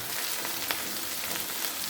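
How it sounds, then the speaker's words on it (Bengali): Masala paste of garlic, turmeric, chili powder, salt and a bay leaf fries in a pan with a steady, dense crackling sizzle throughout, close and even, with brief sharper pops; no voices. "মশলাটা আমি 3-4 মিনিট কষাই নিচ্ছি।"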